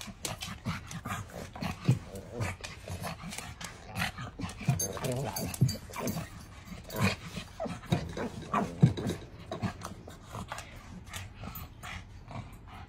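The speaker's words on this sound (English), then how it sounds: "Leave her alone, she's scratching herself." A pug scratching her own bottom, rhythmic rustling and thumping scratches with some panting close by, while people talk over it.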